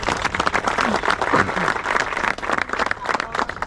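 Dense, steady audience applause fills a cricket tournament ceremony at Sahyadri Chashak 2025, loud and continuous throughout, with a voice faintly audible beneath the clapping.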